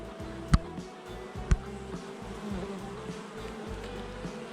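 Honey bees drone steadily around hive feeders while robbing weak single colonies, a close continuous buzz with two sharp clicks near the start.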